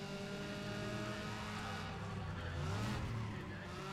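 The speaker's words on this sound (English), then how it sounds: "Hear how the car sounds really deep and throaty?" Deep, throaty V8 engine of a Japanese car in the racing game Need for Speed ProStreet, a low sustained drone that rises in pitch toward the end as it revs, with faint tire noise.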